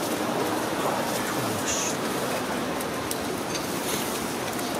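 Steady outdoor rain at an open-air press photo session for a concert event, a dense continuous hiss filling the scene with no clear voices.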